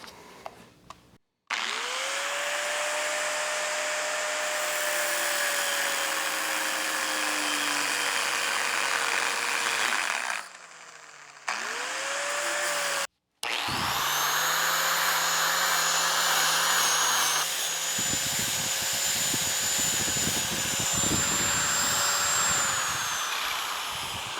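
A power tool cuts the ears off a steel flange for a log splitter, a loud continuous whine that drops out briefly twice and then runs on with a rising pitch and rough grinding at the end.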